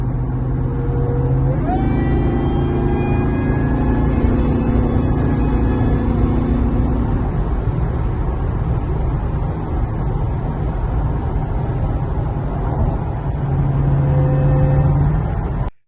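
Bright red V8 truck of two to three tons, its engine running loud and close the whole time with a steady low rumble, a rising whine early on and a brief surge near the end.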